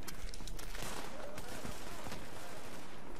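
Gunfire hits bottles in the video game The Division, a dense run of sharp shots and bursts over a constant noisy game background.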